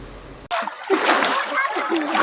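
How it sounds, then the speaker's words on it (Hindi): A young girl splashes vigorously while bathing in river water during a family outing at the Chhinnamastika temple in Rajrappa, Ramgarh, Jharkhand; loud, continuous close splashing and sloshing bursts in suddenly after a brief quieter moment. "यहाँ देखिए इतना सारा पानी में ये छपक छपक कर नहा रही है"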